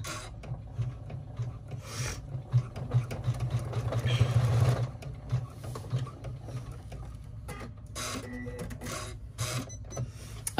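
Embroidery machine stitching a pleat seam on a bag in the hoop, a rapid rasping, rubbing patter with a motor hum, steady and close, swelling briefly before settling, no talk.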